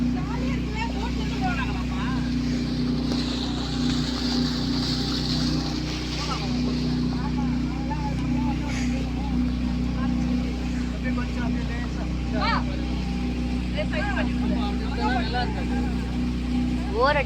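A motorboat on Manali Lake near Chennai carries riders across the water, its engine a steady close drone throughout while people talk over it.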